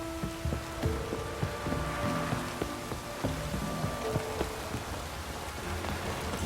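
Steady rain in the video game The Witcher 3 hisses evenly throughout, with soft scattered patter beneath sustained tonal game sounds and no talking.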